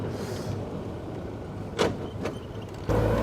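The cabin of a 1970s petrol Land Rover hums with a low, steady engine drone, fairly quiet, with a couple of brief whooshing sounds and a slight rise at the end.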